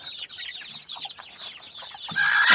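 A hen with sixteen newly hatched chicks, giving soft clucks among rapid high peeping from the chicks, close by, ending in a louder burst of chick chirps.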